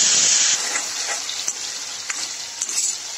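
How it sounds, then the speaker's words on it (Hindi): Ginger-garlic paste frying in butter with cumin, a steady close sizzle with a hissing burst at the start, then continuous crackling and occasional stirring clicks throughout. "इसको हम 2 मिनट तक भूनेंगे।"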